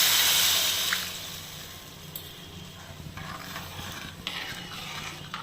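Tamarind and ground tomato liquid for rasam pours and splashes into a pan with a broad hiss that settles into a steady bubbling sizzle, close by.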